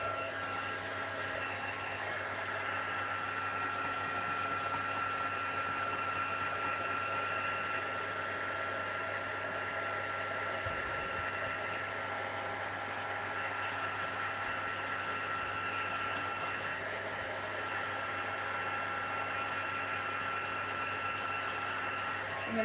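A heat tool blows continuously with a steady whirring hum while warming embossed ink on a stamped card, running unbroken for the whole stretch.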